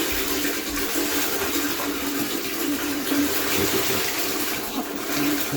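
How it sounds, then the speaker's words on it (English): Dirty mop bucket water drains into a toilet bowl, a steady continuous gush and splash close by, with no voices. "we're gonna go ahead and drain this out into the toilet"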